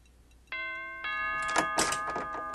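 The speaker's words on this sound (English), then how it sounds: "Oh, we got a doorbell." A doorbell rings in the virtual world Second Life, two clear electronic ding tones a moment apart, followed by a few soft thumps and clatter close by.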